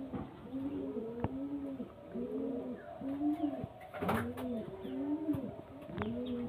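Pigeons, domestic Indian breeding pairs, coo in steady repeated phrases, about six soft rolling coos in a row, close and clear with no voices over them.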